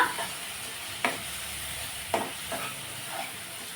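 Onion and tomato frying in a pan for a dried prawn dish, a constant soft sizzle broken by three or four sharp spatula scrapes at roughly one-second intervals, no speech.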